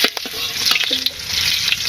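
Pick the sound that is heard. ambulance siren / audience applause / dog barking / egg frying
egg frying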